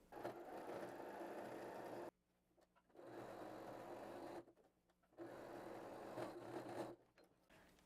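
A sewing machine stitches a bag pocket, running in three loud sustained bursts separated by short pauses, with no talking.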